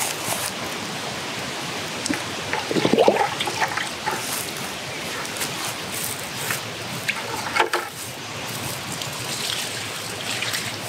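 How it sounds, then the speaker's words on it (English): Liquid fertilizer is poured between rows of corn in a garden, making a continuous soft splashing trickle with a few louder gushes and spatters, close by. "So I'm just pouring this in between the rows of the corn"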